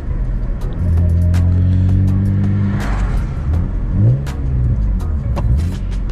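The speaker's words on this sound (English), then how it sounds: "So I'm gonna try to rev match to second." A BMW E46 M3 with a six-speed manual revs up loudly and close during a rev-matched downshift to second, engine note rising, holding, then dipping and climbing again with steady rumble.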